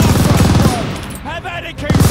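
Rapid machine gun fire in a Call of Duty: Vanguard D-Day battle, dense and loud, broken by a short lull before more bursts return.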